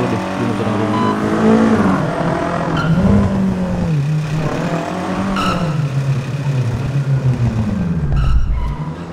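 Car engine revving and tires scraping as a vehicle turns around in an Indonesian executive roleplay video game, a steady loud motor drone with shifting pitch and skid noise, under faint background voices.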